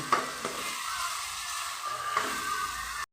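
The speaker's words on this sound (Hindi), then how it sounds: "तो गाइस अभी ये टमाटर होने वाला है, थोड़ा चलाते हैं अभी" Tomatoes frying in a pan are stirred, giving a continuous close sizzle broken by a few soft scraping strokes of a spatula.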